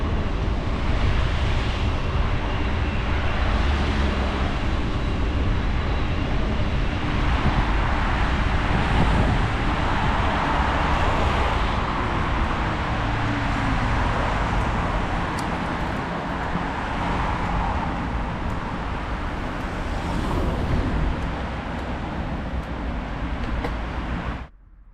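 De-restricted Bosch Smart System Gen 4 e-bike ridden fast on a road test, heard as steady rushing wind and road noise over the microphone for about 25 seconds, ending abruptly.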